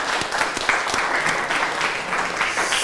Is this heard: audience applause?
yes